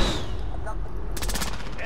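Rapid gunfire in the Modern Warfare video game, a loud dense burst of shots across the whole moment with a sharper rattle near the end.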